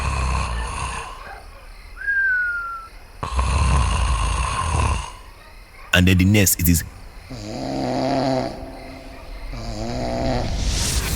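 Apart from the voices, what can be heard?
man snoring loudly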